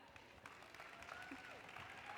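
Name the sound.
audience applause for a speaker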